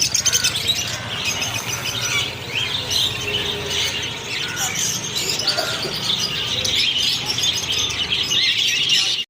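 Caged lovebirds and finches at a fish and pet market in Kolathur keep up a dense, continuous chatter of high chirps and tweets, loud and close, with faint crowd murmur underneath.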